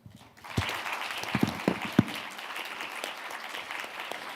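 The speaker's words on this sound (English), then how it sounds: "please applaud all the speakers and the participation and our moderator" A conference audience at a law-of-the-sea session gives a round of applause for the speakers, panelists and moderator: steady, moderately loud clapping with a few sharper nearby claps, starting abruptly and holding to the end.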